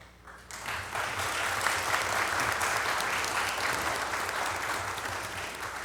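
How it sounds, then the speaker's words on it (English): Audience applause at a city council meeting fills the room, starting after a brief quiet moment and holding steady and dense throughout, with many hands clapping together. "can we have one more round of applause"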